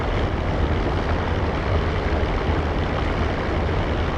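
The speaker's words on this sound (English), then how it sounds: "Now we're rolling down the runway." A small training airplane rolls down the runway, its propeller engine a loud, steady, dense drone heard close from inside, with no speech over it.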